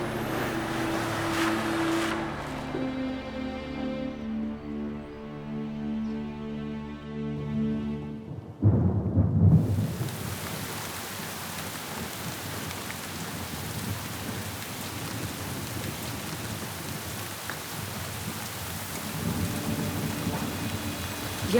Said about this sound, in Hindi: इतनी खतरनाक बारिश